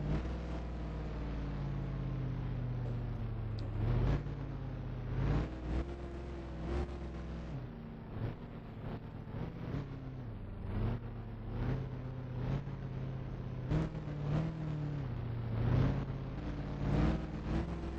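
Race cars in a racing video game rumble along behind a pace car at a Los Angeles Coliseum track, a steady engine drone that rises and falls through changing pitches for a long stretch with no talk.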